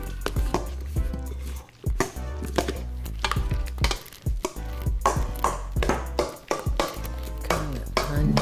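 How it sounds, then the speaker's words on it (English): A spoon mashes and mixes hard-boiled egg yolks for deviled eggs in a bowl, giving repeated close scraping and clinking strokes in an irregular rhythm over a low background hum. "And just start mashing and mixing."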